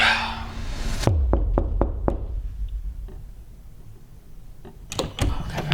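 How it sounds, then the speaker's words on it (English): Four quick, sharp knocks on a locked wooden door in an old family house, followed by silence and then a second short cluster of knocks, heard close. "If I knock and this door unlocks, I think I might leave."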